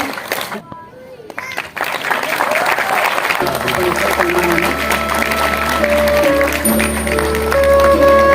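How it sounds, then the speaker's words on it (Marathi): An audience applauds at a film music launch ceremony, steady loud clapping swelling after a brief voice, with music playing over it. "आपण जोरदार टाळ्या वाजवूया त्यांच्यासाठी"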